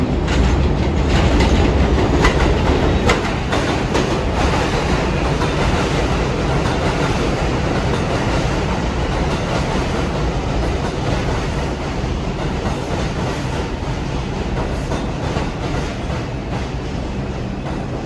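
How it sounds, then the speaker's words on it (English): A Manhattan-bound R142 4 train on the New York City subway at 167th Street rumbles loudly and steadily throughout, with continuous rail roar and clickety-clack wheel noise, and no voices. "This is a Manhattan-bound 4 train."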